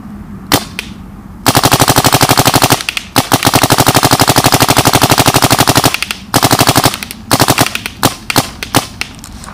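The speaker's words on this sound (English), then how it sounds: "Let's give this thing a little rip." A Dye DM15 paintball marker loaded with GI paint fires in rapid, evenly spaced bursts, loud and close, with long machine-gun-like strings separated by brief pauses and a few single shots near the end.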